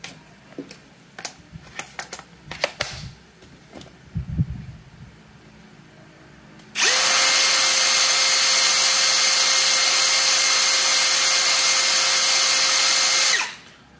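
A Tekiro XV20 cordless drill spins up to full speed and holds a loud, steady high-pitched whine for about seven seconds before cutting off, following some light handling clicks and taps.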